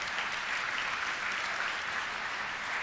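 An audience applauds at an Nvidia Gamescom video card presentation, a steady wash of clapping from a crowd that stays fairly faint and even for about three seconds.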